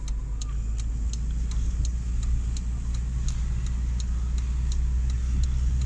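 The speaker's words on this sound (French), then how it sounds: "il y a une voiture qui passe" A car rolls past on a snowy road, a steady low engine rumble and tyre hiss holding at an even level throughout, with faint regular ticking above it.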